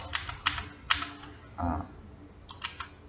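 Computer keyboard keys tapped for a Blender shortcut, a few quick close clicks in small clusters with brief gaps between them, quiet and unaccompanied by talk.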